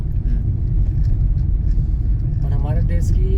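A car pulls away with a loud, steady, low engine rumble filling the whole stretch, and a brief voice rises over it near the end.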